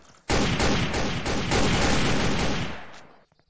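Rapid gunfire from a shootout in the video game Sneak Thief: a loud, dense burst of overlapping shots that runs continuously for about three seconds before cutting off.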